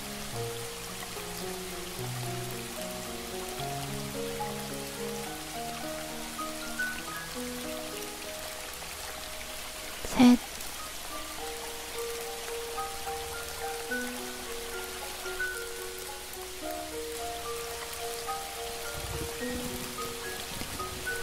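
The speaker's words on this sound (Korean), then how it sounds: "콸콸 쏟아져 내리는 비로 인해 비가 닿는 곳, 그 모든 것이 하나가 된 듯한 느낌입니다." Heavy rain pours steadily in a forest as a constant hiss of downpour under soft, sustained musical tones, with one sharp click partway through.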